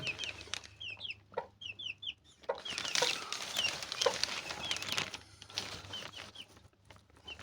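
Hens cluck and chatter nearby in short repeated bursts beside a homemade chick brooder, with a flurry of rustling and flapping in the middle; no voices.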